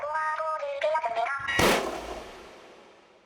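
A single sharp gunshot effect built for a Squid Game video game cracks out loud after a short run of tonal chimes, then its echo decays slowly into silence.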